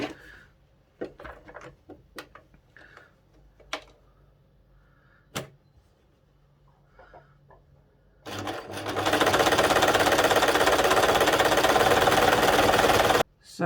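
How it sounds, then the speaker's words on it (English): A sewing machine set to its longest stitch runs a gathering line on hat fabric. A few scattered clicks and handling knocks come first, then a loud, steady mechanical whir lasting about five seconds that stops abruptly. "I put that on the biggest stitch I can get on the sewing machine, and I run a line of stitching round."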